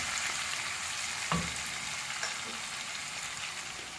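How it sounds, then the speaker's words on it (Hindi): Garlic chicken karahi sizzling and frying in the pan as blended tomato puree goes in, a steady close hiss with a couple of brief splashy bursts as the liquid hits the hot oil. "साथ ही हम टमाटर की प्यूरी ऐड कर देंगे।"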